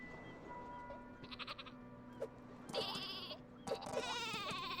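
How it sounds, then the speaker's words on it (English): Explosive sheep from the Worms W.M.D video game bleating in several wavering cries, close and clear over quiet game background noise. "Why is a sheep explosive? Because it's an explosive sheep."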